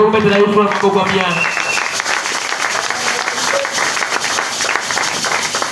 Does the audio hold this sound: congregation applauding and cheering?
yes